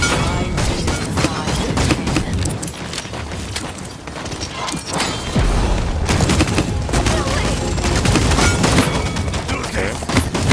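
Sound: semi-automatic gunfire in the video game Paladins

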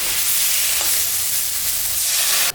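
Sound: water poured onto frying spices, sizzling

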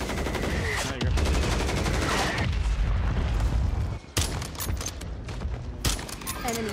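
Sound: mortar strike explosions in the video game Warzone 3

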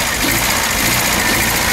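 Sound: car engine running with a sticking connecting rod

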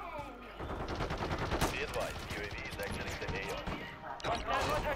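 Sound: gunfire in video game Call of Duty

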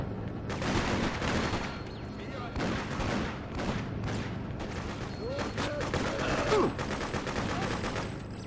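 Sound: gunfire exchange in the Freedom Fighters video game

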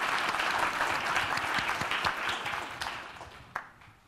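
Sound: audience applause

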